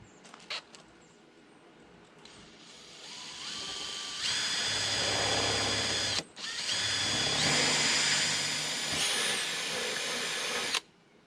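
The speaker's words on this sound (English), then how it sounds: "we'll drill a hole out through here, make that bigger so the bolt can fit" A power drill whirs up to speed and bores steadily, enlarging a bolt hole on a Suzuki LTA 50cc ATV, pausing briefly once before running again, loud and close, then cutting off.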